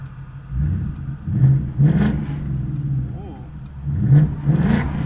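A procharged car engine revs and accelerates in surges, heard from inside the car, with people talking over it.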